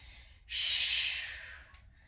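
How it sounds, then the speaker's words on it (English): A single forceful exhale through the mouth during a dumbbell workout rises sharply and trails off over about a second, close and breathy with no talking. "I release. Here's the breathing."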